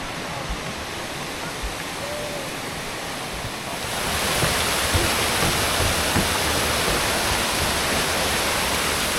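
Steady, dense roar of a waterfall in Michigan's Upper Peninsula, rushing water filling the scene continuously and growing louder partway through.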